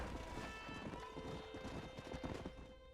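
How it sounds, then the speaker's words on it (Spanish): Horses gallop in Red Dead Redemption 2, a quick run of hoofbeats under steady game music and ambience, moderately faint. "Nos echamos unas carreras de caballo, yo creo."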